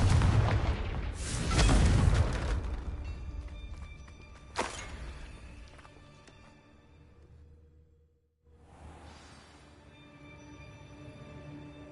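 A Confringo blasting spell explosion in the Hogwarts Legacy video game, a loud booming blast followed by a sharp crack and a decaying rumble, with a quieter ringing tail afterward.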